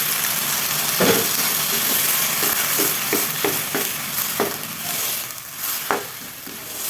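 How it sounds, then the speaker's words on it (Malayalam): A spoon stirs a hot mixture in a cooking pan after hot water has been added; a close, continuous sizzling hiss is broken by repeated scraping strokes. "എല്ലാം കൂടെ നന്നായിട്ടൊന്ന് ഇളക്കി യോജിപ്പിച്ചെടുക്കുക"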